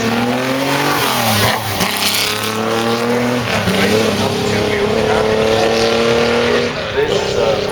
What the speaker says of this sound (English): we see the smoke out the twin exhaust pipes there for the big 992 V twin